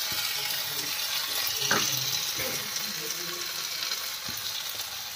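Chili paste sizzles and fries in a hot pan for a paneer sizzler, a steady hiss with light stirring clinks and scrapes, fairly close.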